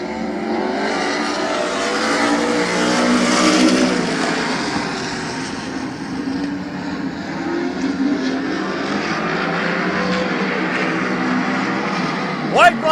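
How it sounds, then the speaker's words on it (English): Race cars roar around Midvale Speedway during a heat race, a loud continuous engine drone rising and falling as the pack passes, with an announcer talking over the noise throughout. "We're past halfway in this heat race."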